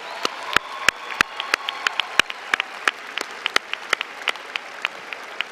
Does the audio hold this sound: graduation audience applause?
yes